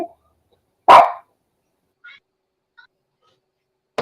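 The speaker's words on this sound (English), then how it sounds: "Now, why are those dogs barking?" Dogs bark outside in a quiet residential neighborhood, one loud close bark standing out, followed by a few faint, distant yips and a short bark cut off at the end.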